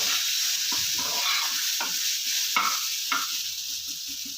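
Onions frying in a pan for a dosa chutney, a steady, loud sizzle with occasional stirring scrapes, heard up close with no talking.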